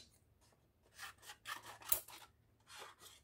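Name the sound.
cutting milk carton cardboard with scissors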